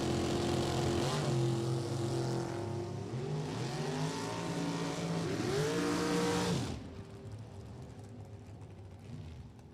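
Super Comp drag racing cars at Lebanon Valley Dragway roar past, their engine notes rising and bending as they accelerate. The sound stays loud and close for several seconds, then drops off sharply into a fading distant rumble.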